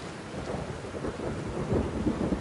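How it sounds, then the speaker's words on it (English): Heavy rain pours steadily with a deep rolling rumble of thunder beneath it, a dense, continuous wash of noise without any voices. "Oh, George, it just started raining."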